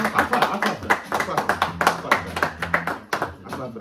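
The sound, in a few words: hand clapping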